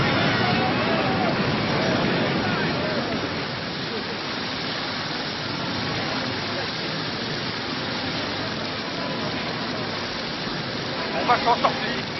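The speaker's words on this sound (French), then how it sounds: "Les vagues sont trop fortes!" Heavy ocean waves churn and roar in a continuous, loud wash of surf and spray that fills the whole stretch, with a brief cluster of sharper splashes near the end.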